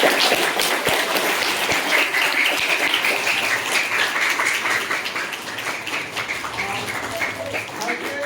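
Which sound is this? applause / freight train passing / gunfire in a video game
applause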